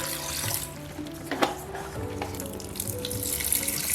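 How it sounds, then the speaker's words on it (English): Water runs steadily from a tap while chicken feet are washed with lime juice and vinegar, a continuous close rushing with brief splashes and handling sounds, no talk. "I'm going to wash this about 2 times before I add it to my pot"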